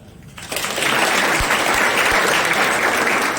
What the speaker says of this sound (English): I would give them a round of applause. Clap.